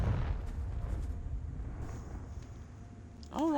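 A Confringo blasting spell in a wizarding video game sets off a low, rumbling explosion whose boom rolls and fades steadily, followed by a brief whooshing sweep at the end.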